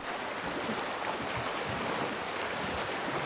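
Steady broadband rushing water, like a boat passing close to a waterfall, fills the clip with a dense, constant roar and spray, plus some wind buffeting the microphone; no talking.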